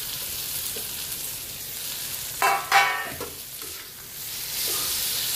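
Sliced tomatoes drop onto onions frying on a tawa for an egg paneer fry, giving a steady close sizzle that flares in two sharp bursts as they hit the hot oil and are stirred, then settles back to a constant fry.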